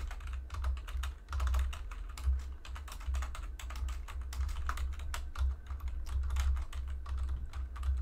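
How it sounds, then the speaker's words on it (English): A computer keyboard clatters under quick, irregular typing, keystrokes close and crisp in bursts over a low steady hum, with no one talking. "now I'm just like chatting and typing"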